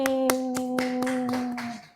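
Hands clapping in a small group at a short-course award announcement, several sharp claps standing out over a sustained tone before everything fades to quiet.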